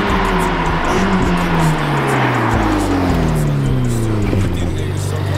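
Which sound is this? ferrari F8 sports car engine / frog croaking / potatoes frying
ferrari F8 sports car engine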